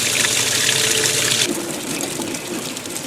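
Water rushes steadily into a washing machine filling for a warm rinse, a close, continuous gushing that softens slightly partway through.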